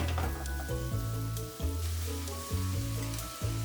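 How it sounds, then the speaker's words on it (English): Pork and chopped spring onions sizzle and hiss in a hot wok for pork in yellow bean sauce, with about four regular chef's tosses each landing as a loud scraping whoosh and a fresh burst of frying. "Here I go again with that chef's toss."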